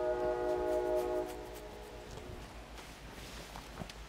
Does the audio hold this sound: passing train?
yes